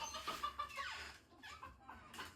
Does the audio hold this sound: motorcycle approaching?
no